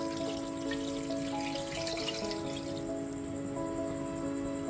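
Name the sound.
big bowl of hot water poured into mutton curry with potatoes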